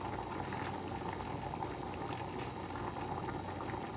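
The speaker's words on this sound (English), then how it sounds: "So that's starting to boil." A pot of water comes to the boil for a burrito bowl, a faint continuous bubbling roil with small pops, steady and close, no voices.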